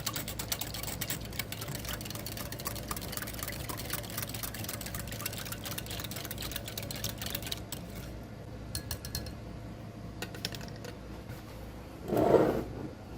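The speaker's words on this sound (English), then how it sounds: "And I'm whisking." Water and lime whisked together in a bowl: a continuous, steady scraping swish running throughout, close and moderately loud, with a short louder clatter near the end.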